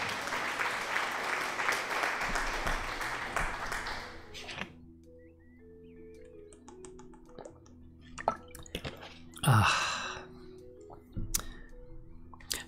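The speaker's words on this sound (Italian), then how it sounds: "Applausi," A burst of crowd applause rises and fades out after a few seconds, followed by quiet scattered clicks and small knocking sounds in a room.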